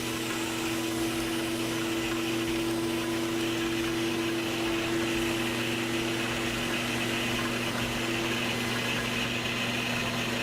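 A Sirena water-filtration vacuum cleaner runs while cleaning carpet, giving a steady, droning motor hum with a constant tonal whine and airflow noise, unchanging and close.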